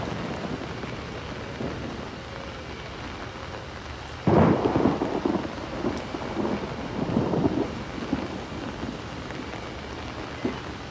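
Rain-soaked thunderstorm in the horror game Outlast: steady rainfall and wind underneath, broken near the middle by a loud, close thunderclap that rumbles on for several seconds before fading back into the downpour.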